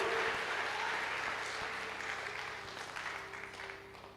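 Audience applause for a girl at a Christian sermon gathering, a steady wash of clapping that fades gradually toward the end.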